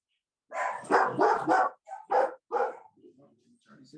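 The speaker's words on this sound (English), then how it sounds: "Guard dogs." A dog barks repeatedly in a quick run of loud, close barks, then a few softer yips and whines trail off.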